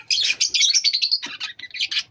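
Caged Australian parrots and Java birds chirp and tweet in quick, bright bursts, several close calls overlapping with short pauses between.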